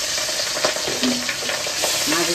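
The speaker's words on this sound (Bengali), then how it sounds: "মাছগুলো এক একটা করে ছেড়ে দিচ্ছি।" Fish pieces sizzle in hot oil in a wok, a steady dense frying hiss with a few scraping stirs and clinks, close by and continuous for the whole moment.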